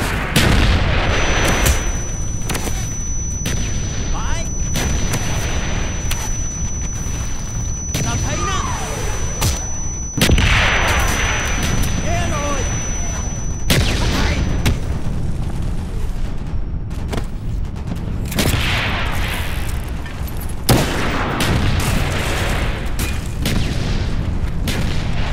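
Heavy gunfire and booming explosions in a Call of Duty Black Ops battle, with loud sustained bursts and blasts running throughout while voices shout orders in Spanish over the din.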